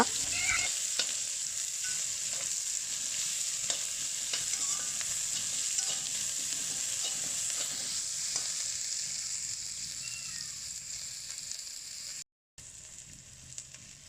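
Sliced onion sautés in a pan, giving a steady close hiss and sizzle with occasional faint scrapes of stirring, continuous throughout before a brief dropout near the end.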